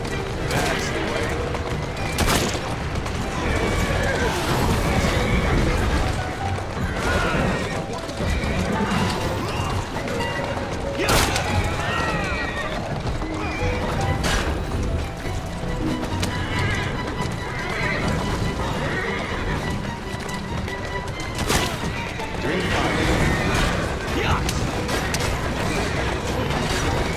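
A horse neighs and whinnies repeatedly while hooves clip-clop steadily in Assassin's Creed Syndicate, loud and close, with game sounds and occasional talk mixed in.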